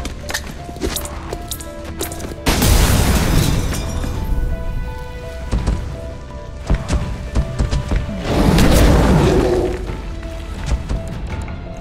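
Grenade blast in the tactical game XCOM: Chimera Squad, a sudden loud broadband burst with a shattering tail, followed several seconds later by a second heavy explosion amid game sound effects and music.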